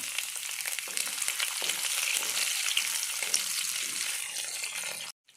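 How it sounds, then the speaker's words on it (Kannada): Two green chillies fry with cumin seeds in hot oil in a pan for a soya chunks curry, giving a steady, close, even sizzle that stops abruptly at the end. "ಈಗ ನಾನಿಲ್ಲಿ ಎರಡು ಹಸಿಮೆಣಸನ್ನು ಹಾಕ್ತಾ ಇದ್ದೇನೆ"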